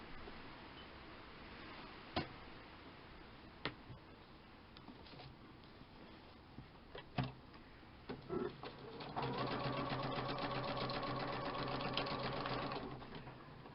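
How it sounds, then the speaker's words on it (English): After a few scattered clicks and taps, a sewing machine runs steadily for several seconds, stitching layers of lace together with a close, even whirring rattle. "So nothing for it, but I'm going to have to sew it."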